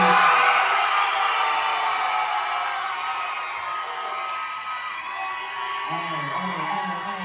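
A crowd at a youth breaking league semi-final recital cheering and whooping for a breakdance crew, loud and sustained shouting that slowly eases, with a voice speaking over it near the end.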